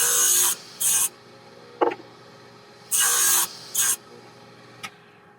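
A thin saw blade cuts angled spline slots into a wooden joint, heard as four short, loud bursts of rasping noise in two pairs, with brief clicks and quiet gaps between passes.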